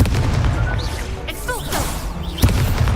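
Expulso and Confringo spell explosions in the Hogwarts Legacy video game, loud booming blasts and crackling bursts over dense game noise, with one sharp bang near the end.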